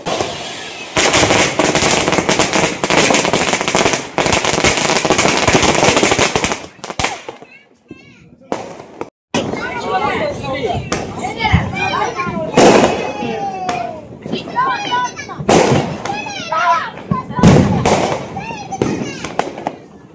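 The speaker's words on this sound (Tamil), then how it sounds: "இப்போ அடுத்த சரவெடி இது வந்து சின்னது தான்" A string of firecrackers bursts during a family Diwali celebration, with dense rapid crackling for several seconds, then scattered sharp pops and bangs. Voices, including a child's, are heard among the explosions.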